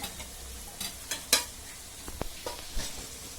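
Bay leaves fry with browned onions in a curry pan, producing a quiet, low sizzle broken by a few sharp spatula scrapes and clinks close by.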